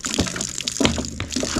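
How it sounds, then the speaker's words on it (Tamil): Water gushes in uneven spurts from a hand-operated borewell pump worked with one hand, close and splashy, each surge rising and falling with the pumping strokes. "ஒரு கையில் தான் அடிக்கிறேன் தண்ணி வருது."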